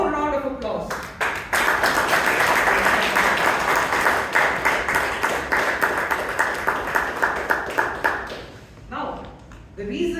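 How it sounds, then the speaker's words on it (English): Audience at a Toastmasters club meeting in Bangalore breaks into a long round of applause, dense clapping that swells, holds for several seconds, then thins into scattered claps. "Can we have another loud round of applause?"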